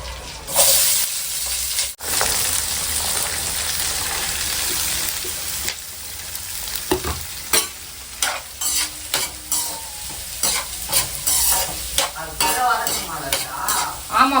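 Onions, green chilies and vegetables sauté in a hot kadai, with a loud sizzle and hiss and frequent spatula stirs and scrapes growing busier toward the end; no voices.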